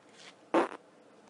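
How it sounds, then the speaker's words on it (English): A fart sound effect bursts out once, loud and close, lasting about a quarter second with a sputtering tail, after a faint breathy sound and before quiet background. "Which fart came out of which hole?"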